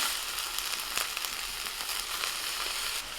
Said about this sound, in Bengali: এখন এর মধ্যে আমি কাটা পালং শাকগুলো দিই